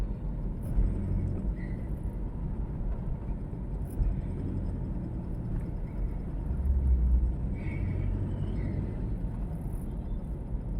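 Car driving in heavy traffic: a steady low road rumble from inside the vehicle with a slight swell partway through and no voices.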